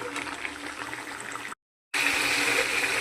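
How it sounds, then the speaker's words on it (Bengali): Water pours steadily into a pan of browned potatoes with a rushing, gushing sound, cut off by a brief silence and then resuming. "এবার আমি জল ঢেলে দিচ্ছি।"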